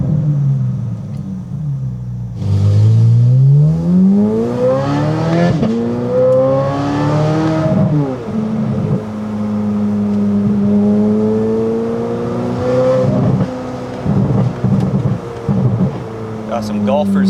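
Corvette C8 Z06 with a full titanium exhaust driving, its engine loud and close, revving up through rising sweeps, dropping on shifts, then holding a steady drone with brief blips near the end.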